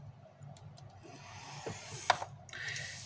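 A bone folder scores a line into cardstock on a scoring board, making a few faint scraping strokes and small clicks, with one sharp tick near the middle; no one talks.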